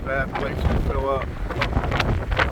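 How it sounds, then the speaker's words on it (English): Strong tropical storm winds from Hurricane Hilary at a desert campsite in Quartzsite, Arizona, buffeting the microphone with a loud, steady roar, with a voice briefly heard over it. "this wind is coming in hard"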